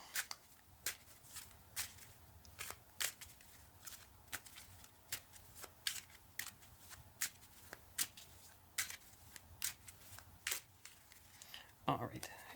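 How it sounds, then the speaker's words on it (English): A deck of playing cards is shuffled close up, with crisp riffling bursts repeating at a steady, regular rhythm in a quiet room and a louder rustle near the end. "give them a good shuffle"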